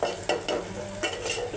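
Finely chopped bottle gourd is sautéed in a pan. A spoon scrapes and stirs through it in a few quick strokes over a steady, close sizzle.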